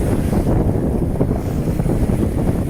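Strong, steady 17-knot wind roars across the microphone with low rumbling gusts and the wash of water around a sailing boat off steep cliffs in the Mediterranean.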